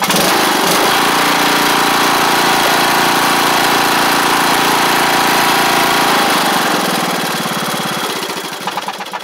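An MTD Craftsman LT1500 riding mower engine runs loud and steady for most of the span, a continuous droning rumble that starts tapering and fading toward the end.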